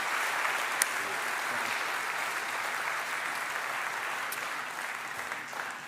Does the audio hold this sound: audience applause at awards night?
yes